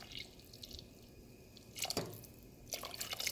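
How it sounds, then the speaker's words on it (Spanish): Water is poured from a cup into a pot of pasta and potato soup in a home kitchen, giving two short splashing bursts separated by quiet, fairly close and soft. "aquí le voy a agregar solamente 1 taza más de agua"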